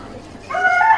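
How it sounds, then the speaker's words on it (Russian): A rooster begins a loud, close crow that rises sharply halfway through and is cut off after only a brief moment. "Петя Петух"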